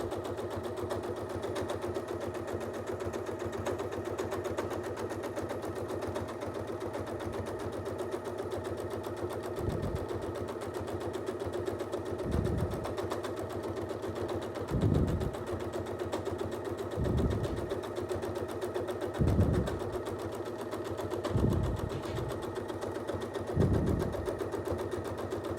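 Sewing machine quilting slowly along existing stitch lines, a steady close motor whir with a run of periodic louder thumps of the needle, no talk.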